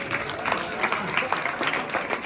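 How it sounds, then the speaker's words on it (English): A conference audience in Kenya claps for Caribbean attendees, a steady, fairly loud round of applause with some crowd murmur and a voice talking over it. "Let's give a round of applause for our Caribbean family."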